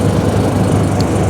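A 2005 John Deere Gator TS 4x2 utility vehicle with a Kohler gasoline engine runs at a steady idle, a close, loud, even rumble with no voices.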